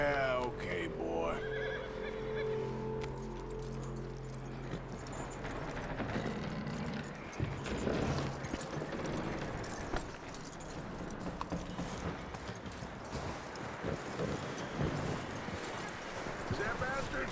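A horse whinnies at the start in Red Dead Redemption 2, followed by steady clip-clopping hooves with jangling tack, while voices talk over the sounds.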